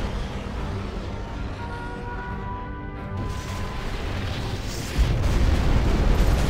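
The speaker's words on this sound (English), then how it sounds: "Nuclear missile launched." A nuclear missile detonates in the real-time strategy game Generals: Shockwave, with a sustained rumbling roar that swells louder and heavier near the end, alone without speech.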